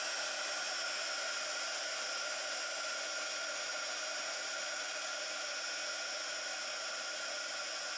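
A hot-air heat tool heating embossing powder gives a steady, even blowing whoosh with a faint motor whine. It runs alone and without a break throughout.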